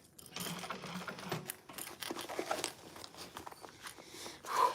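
A sewing machine runs in steady bursts, stitching along a seam line on a handbag during a sewing class, close and moderately loud with a rapid mechanical rattle and brief pauses.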